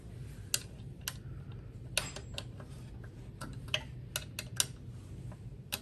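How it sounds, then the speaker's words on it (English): A hex key tightening the stand screws on a GAMMA X-Stringer X-2 stringing machine: a quiet, close run of sharp metallic ticks and clicks at irregular intervals over a low hum. "To get these screws nice and tight, you'll want to use the largest of the smaller hex keys that came with the machine."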